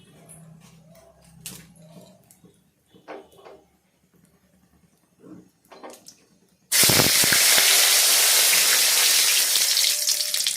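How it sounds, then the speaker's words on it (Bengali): Bay leaves drop into hot oil for tempering a Bengali papaya and prawn dish, bursting into a loud, steady sizzle partway through after a stretch of quiet kitchen clatter, then crackling on without pause. "কয়েকটা তেজপাতা দিয়ে দিলাম দিয়ে ফোড়ন করলাম"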